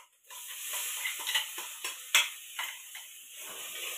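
Ground onion-garlic masala stir-fries in a pan with a steady, gentle sizzle and a run of light spatula taps and scrapes at an irregular pace.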